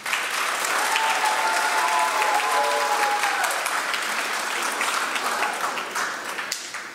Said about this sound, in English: one more extra special round of applause for Liam and Johnny